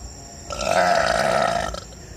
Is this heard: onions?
no